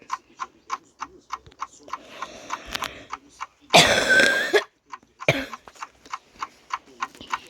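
A single harsh cough stands out near the middle over a steady ticking clock, with a quieter throaty sound just after and some soft talk earlier.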